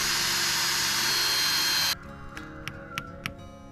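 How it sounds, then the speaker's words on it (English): A power drill bores a tap hole into a maple tree outdoors, a loud steady whirring grind that stops abruptly midway, followed by a few light ticking knocks. "can you drill me a hole?"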